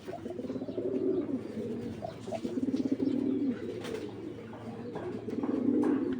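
Giribaz racing pigeons coo steadily in soft, low rolling phrases that swell and fade, fairly close, over a constant background hiss with no talk.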